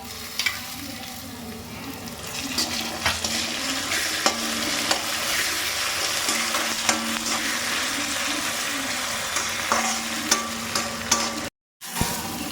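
Onions and tomatoes fry in a pan, giving a steady close sizzle with repeated scraping and stirring clicks of a utensil, continuous for the whole stretch with a brief dropout near the end, no voices.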